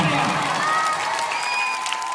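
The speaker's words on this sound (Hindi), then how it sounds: "जोरदार ताली बजाइए," Audience applause after a children's dance at a school Independence Day (15 August) event, a steady dense clatter of clapping over the whole stretch, with whistle-like tones and a voice threading through the crowd noise.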